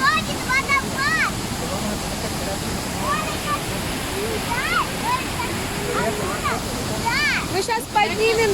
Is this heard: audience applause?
no